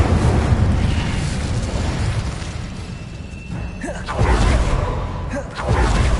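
Incendio fire spell blast in Hogwarts Legacy, a loud roaring whoosh and rumbling burst of flame amid continuous game sound, swelling twice toward the end.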